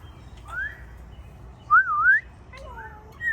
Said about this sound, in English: All these African grays making lots of chatter and whistles.